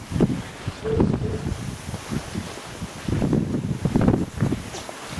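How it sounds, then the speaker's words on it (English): Wind gusting outdoors in snow during sledding, heard as rough, close buffeting and rumbling microphone noise that rises and falls in surges. "There's wind."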